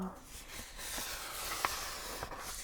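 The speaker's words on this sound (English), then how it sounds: "Page turning." Paper pages turn in soft, close rustling swishes, with a couple of sharper crinkles standing out against a quiet background.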